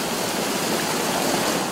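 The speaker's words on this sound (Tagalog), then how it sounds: "Delikado na kasi dahil lalo't malakas ang agos ng tubig sa kalsada papuntang Sapa." Strong floodwater current rushing across a flooded road toward Sapa, a dense, steady roaring wash of water, loud and close with no voices.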